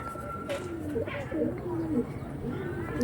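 Old-line pigeons with mongoose-coloured heads coo repeatedly in low, wavering phrases, close by, with a voice talking briefly over them.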